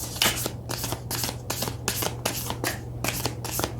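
Oracle cards, a Moonology deck, shuffled by hand in a steady run of crisp riffling bursts, close and fairly loud, with a low constant hum beneath and no talking.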